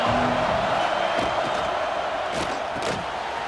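Stadium crowd in EA Sports College Football 26 during a kickoff return, a loud steady roar of massed fans with a few sharper swells and shouts rising out of the din.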